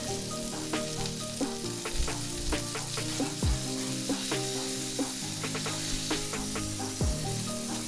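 Patty melt beef patties fry in a pan, giving a loud, continuous crackling sizzle with dense spattering pops throughout and no talking.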